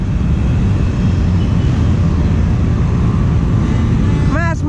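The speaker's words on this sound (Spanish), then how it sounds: "Y aprieta el gas," A motorcycle revs under throttle during the flag parade at the Pingüinos 2019 motorcycle rally in Valladolid, a loud, steady, close engine roar filling the whole stretch, with a rising whine right at the end.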